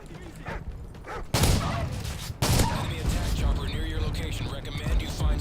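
A Spaz shotgun fires in Modern Warfare 3 Parish survival mode, two heavy blasts about a second apart standing out loudly over continuous in-game background noise.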